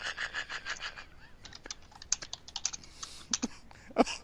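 Quick bursts of clicky keystrokes on a computer keyboard come in irregular runs with short pauses, close and crisp, ending on one heavier thump.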